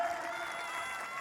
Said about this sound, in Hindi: तो सभी के लिए एक बार जोरदार तालियां